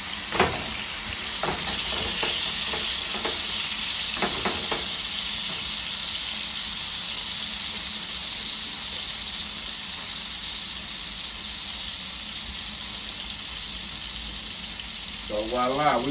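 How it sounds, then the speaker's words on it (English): Salmon fries skin-side down in a hot pan, a steady bright sizzle running throughout with a few sharp spatters and clicks early on and a brief voice near the end. "we're gonna let that fry up. We're gonna let the bottom of that skin get a little crispy."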